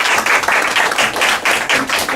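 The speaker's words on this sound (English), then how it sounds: "Can we give them a round of applause," Audience applause at a high school fire cadet program ceremony, a dense, steady burst of many hands clapping close and loud throughout, with no talk over it.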